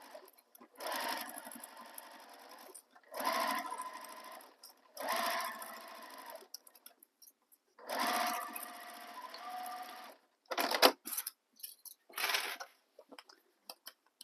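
A sewing machine stitches the sides of a handmade bag in several short bursts of whirring motor and needle clatter, separated by pauses for backstitching, with small clicks and handling noises between runs.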